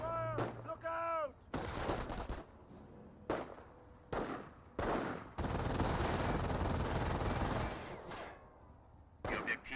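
Bursts of gunfire, explosions and artillery crack repeatedly around an infantry rifle squad in the WWII strategy game Company of Heroes; loud, dense volleys alternate with short gaps, one long sustained barrage in the middle.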